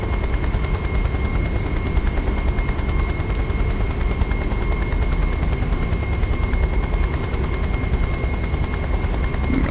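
A helicopter flies in the video game Just Cause, its rotor chop and engine drone holding steady and loud throughout, with no talking over it.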